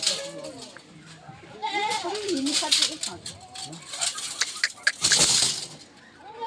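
Goats bleat repeatedly nearby, overlapping wavering cries mixed with people talking and some rustling and clattering in the pen.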